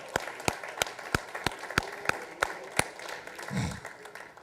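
A church congregation claps along in a steady rhythm, about ten evenly spaced sharp hand claps, moderately close, ending with a short low thump.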